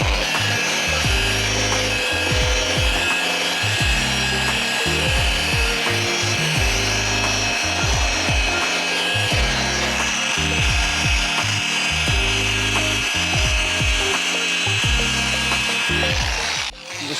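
A polishing pad worked over dried car paint with polish during detailing, giving a steady, close rhythmic rubbing and scrubbing with repeated strokes throughout, loud and without talk.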